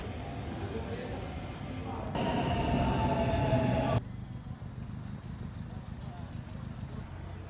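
Train or metro at a station in Italy, a steady rumble and hiss of the carriage with a louder, brighter burst of motor whine or braking in the middle, continuing under the ambient noise.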